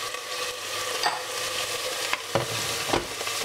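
Onion and carrot with ginger fry and sizzle in a hot pan for a curry sauce, a steady close crackle broken by several sharp scraping stirs.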